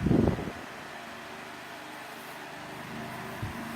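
A 16-inch Cool Breeze table fan runs steadily nearby, a constant whooshing drone with a low hum and a faint rhythmic flutter, with a brief knock at the start and another near the end.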